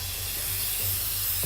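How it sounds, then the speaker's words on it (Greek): A steady, continuous spray-paint hiss in the video game inFAMOUS Second Son, like an aerosol can held down, runs unbroken at moderate volume with a faint low hum underneath. "Κάνω σπρέι, κάνω λίγο σπρέι."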